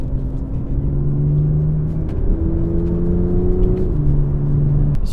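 A BMW M2 in sport mode with manual shifting pulls through the gears, its engine note rising in steady stepped climbs with brief shift breaks, a loud close-up in-cabin drone over road rumble.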